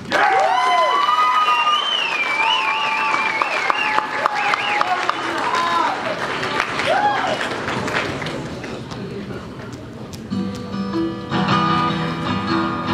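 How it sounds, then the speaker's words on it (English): A high school talent show audience claps and cheers with whoops and shouts early on, fading as music and a singing voice take over near the end. "Can I get another round of applause for them"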